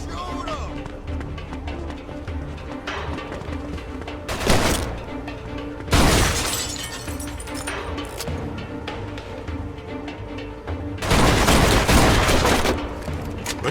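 Gunfire from the PC game Mafia II, with sustained volleys and heavier bursts of shots against a busy backdrop, and people shouting over the shooting.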